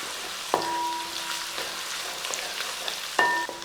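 Garlic and ginger fry in oil for a Kerala-style curry lemon pickle, giving a steady close sizzle. Two sharp ringing metallic clinks from the pan or spoon cut through it.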